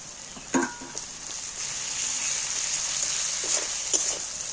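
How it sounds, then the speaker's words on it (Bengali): Garlic paste frying in oil with softened onions, a steady close sizzle with a few brief stirring clinks and scrapes. "এইবার আমি রসুন বাটাটা দিয়ে দিচ্ছি"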